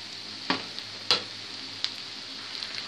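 Pieces of browned meat put back into a pan of cooking onions for Egyptian pot kebab, giving a low steady sizzle with a few sharp clinks and pops, close up and with no talking.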